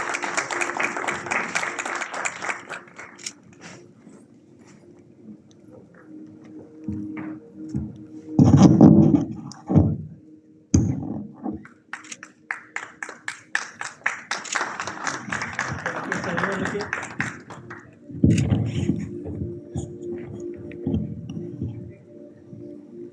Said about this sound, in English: can you have a big round of applause for him